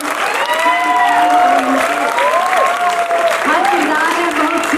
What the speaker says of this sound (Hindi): एक बार जोरदार तालियां पेश करें